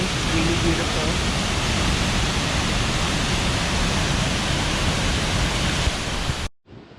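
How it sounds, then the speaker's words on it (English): A waterfall near Accra, Ghana roars as a dense, steady rush of falling water that fills the scene for about six seconds before cutting off abruptly. "This beautiful waterfall."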